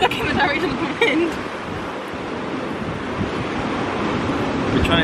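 Strong wind buffets the microphone on a cliffside walking path in Crete, a steady loud roar with surf-like rushing, continuous throughout.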